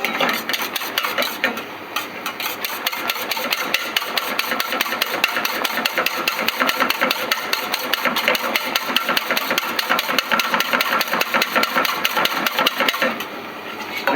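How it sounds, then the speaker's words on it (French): Whisk beating an egg and sugar mixture for génoise sponge, warmed over heat then whipped toward the ribbon stage: a fast, steady, dense rattling scrape against the bowl, continuous and close for the whole stretch with no talk. "Je bats pour chauffer le mélange œuf et sucre"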